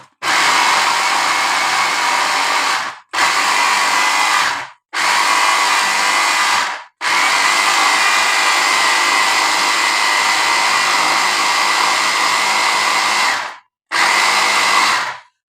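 An electric grinder mincing rice, vegetables and onion for kofta, a loud, steady high whirring motor that runs in several long bursts separated by brief silent stops, close up and with no talk.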